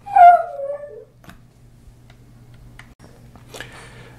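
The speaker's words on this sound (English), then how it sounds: "sorry for the interruption, my dog wanted some attention" A dog whimpers once with a high, falling whine lasting about a second, close by, followed by quiet room sounds with a faint low hum and a soft rustle near the end.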